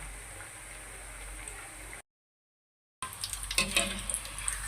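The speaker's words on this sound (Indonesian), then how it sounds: "Ini nanti digoreng sampai habis ya semuanya." Peanut crackers (peyek) fry in a pan of shallow oil, giving a steady, dense sizzle. A second of dead silence breaks it, and then the frying returns with louder crackles and pops.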